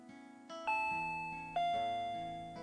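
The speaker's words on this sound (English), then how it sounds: "the doorbell rang" A doorbell rings in the Higurashi When They Cry video game, giving two clear chimes in a row, each a bright tone that rings out and slowly fades over a soft background, with no voices.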